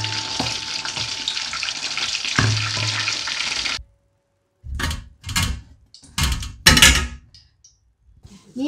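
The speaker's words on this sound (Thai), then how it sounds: "ค่อยๆทอดไปนะคะให้เขาเหลืองกรอบไปเหลืองทั้งอันค่ะ" Thai fish balls frying in hot oil, a dense continuous sizzle for several seconds that cuts off abruptly, followed by short separate bursts of bubbling and clattering.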